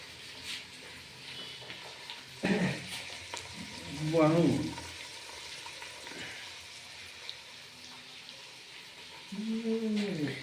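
Ginger, green chili and curry leaves frying in a pan for upma, a low steady sizzle with occasional stirring clinks, faint and close, with a voice speaking briefly over it.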